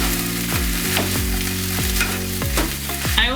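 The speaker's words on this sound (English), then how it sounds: "Break it up a little bit and just like incorporate it through the fried rice." Egg being stirred into kimchi fried rice in a hot pan, with a constant sizzle under repeated scraping strokes of a utensil at a quick, regular rhythm.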